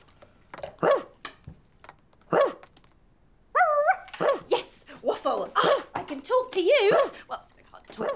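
A dog barks repeatedly in short, sharp bursts, at first spaced apart and then in a quicker run, close and fairly loud, with speech mixed in.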